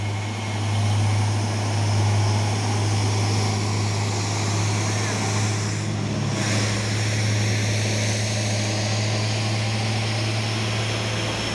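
A Hino 500 CPO tanker truck laboring uphill, its engine a loud, steady low drone with a constant heavy hum throughout and no clear pauses.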